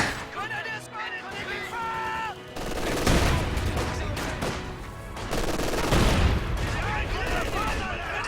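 Gunfire, grenade blasts and mortar explosions from a World War strategy game battle with a Grenadier build and mines, a dense rolling barrage of shots and booms under an overlapping commentator's voice.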